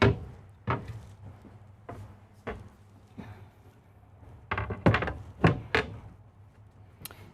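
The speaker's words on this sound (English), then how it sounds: "you'll see these are solid wood, dovetail construction, and also soft closing" Solid wood dovetail cabinet drawers with soft-close runners in an RV kitchen, opened and shut several times: a series of soft, muffled thumps and slides, some spaced apart and a quick cluster near the end, fairly close with no talking.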